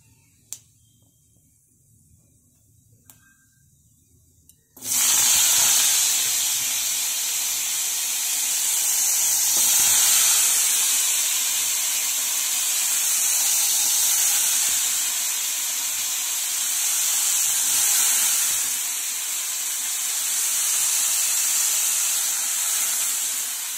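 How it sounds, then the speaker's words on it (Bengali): Bitter gourd pieces dropped into hot oil, a sudden loud, steady sizzle and hiss that sets in after a quiet start and keeps going with faint pops and spluttering, close up, with no talking. "আগে দিয়ে দিই উচ্ছেগুলো। দেখছো কিরকম ফাটছে"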